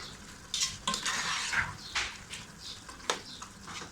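Minced meat and peas fry over medium heat in a pan, a soft steady sizzle broken by scraping stirs and the clink of a spoon against the metal, heard close with no voices.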